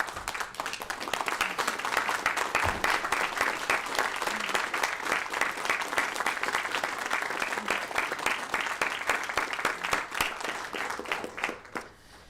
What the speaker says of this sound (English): I think we ought to give a standing round of applause